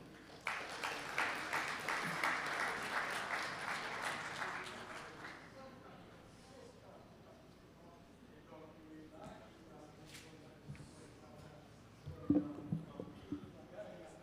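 A crowd applauds steadily for several seconds at a closing cocktail reception and symbolic cheque ceremony, then the clapping fades into murmuring room noise with a few scattered knocks near the end.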